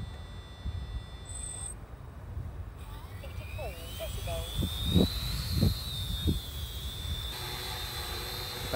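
A Tarot 650 Sport multirotor drone running Pixhawk ArduCopter flies low outdoors, giving off a steady rising motor whine over a rumbling wind-like background, with a few soft thumps midway.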